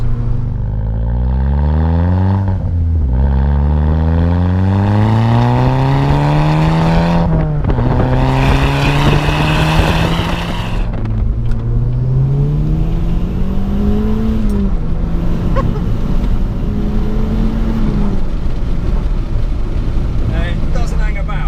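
A 2008 Audi S3 8P's engine and exhaust accelerate hard through several gears, each pull rising in pitch before a brief drop at the shift, loud and continuous with no talking.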